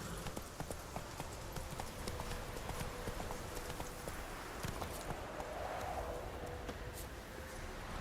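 Roach, a horse in The Witcher 3, trots with steady, rhythmic hoof clip-clops over a soft ambient game background at moderate level.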